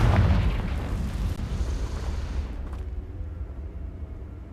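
A Confringo fire spell explodes in Hogwarts Legacy, a loud, booming blast with a deep rumble that rolls on and slowly fades over several seconds.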